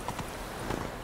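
Geralt's horse Roach trotting in the video game The Witcher 3, with a steady clip-clop of hooves that stays close and moderately loud under a continuous background wash.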